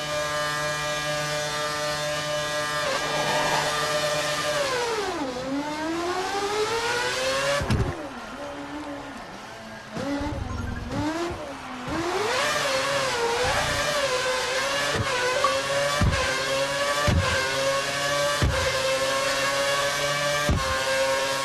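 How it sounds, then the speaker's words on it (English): F1 2013 race car in the video game accelerating hard out of a hairpin corner, its high-pitched engine climbing through the gears in repeated rising sweeps with short gear-shift dips, loud and continuous. "For this test, we need you to accelerate towards the hairpin corner, turn in at the correct point, hit the apex, and accelerate past 185 miles per hour out of the corner."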